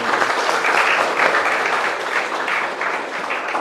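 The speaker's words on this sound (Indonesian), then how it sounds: "tepuk tangan dulu dong" A crowd at a school gathering, with students and teachers honouring a teacher, breaks into loud, sustained applause that fills the room for several seconds.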